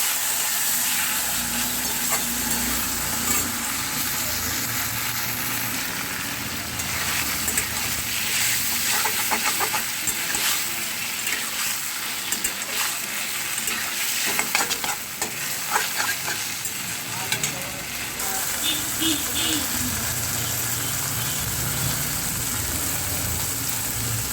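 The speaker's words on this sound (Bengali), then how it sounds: "নুনগুলো দিয়ে শাকটাকে খুব ভালোভাবে আমি কষিয়ে নেব" Taro greens (kochu shak) stir-fried with salt and turmeric in a pan, a steady close sizzle with frequent scraping and stirring clatter running throughout, no voices.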